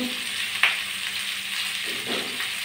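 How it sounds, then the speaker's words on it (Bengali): Onions salted and frying in a pan, a soft steady sizzle with a sharp click near the start and a couple of faint scraping stirs, close and moderate in level. "পেঁয়াজটা আমি ভাজি ভাজি করে নেবো"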